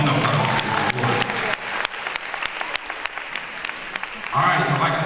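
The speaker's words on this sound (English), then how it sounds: "Give him a round of applause." An audience at an award ceremony applauds a young student, a full burst of clapping that thins into scattered claps with a few whoops, then swells again with cheering at the end.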